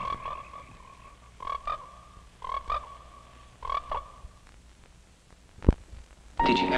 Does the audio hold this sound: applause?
no